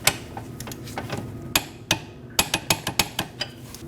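Ratcheting clicks and sharp metallic taps from a torque wrench tightening the rear knuckle bolts on a 2014-2023 Jeep Cherokee, close up, in a quick uneven series that grows denser and more regular toward the end.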